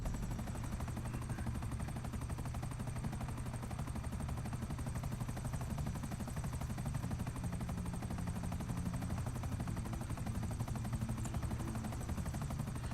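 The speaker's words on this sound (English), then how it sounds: "Now, this helicopter is special. It's an attack helicopter, because I can press X and shoot my guns." An attack helicopter in the video game GTA 5 flies with a continuous rotor drone and rapid rhythmic chopping, holding a steady moderate level for about thirteen seconds with no talk.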